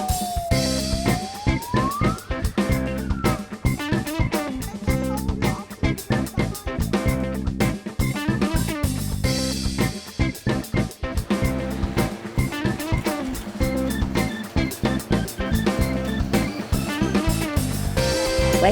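A mini fire engine small enough for roads and footpaths sounds a loud, continuous wailing siren that rises and falls in repeating cycles throughout.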